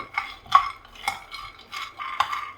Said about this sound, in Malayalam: കുറച്ച് കപ്പലണ്ടി റോസ്റ്റ് ചെയ്യാൻ വേണ്ടി വെച്ചിട്ടുണ്ട്